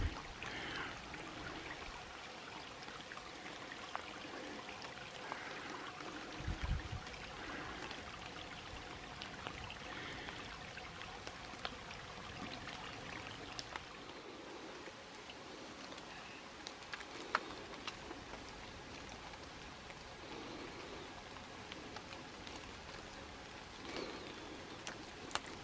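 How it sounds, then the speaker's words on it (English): Water spills through a narrow channel in a small cascade on a forest creek, giving a faint, continuous trickling and splashing that carries steadily throughout with no talking. "This is an interesting little cascade. Comes in that one narrow little channel down through there like that."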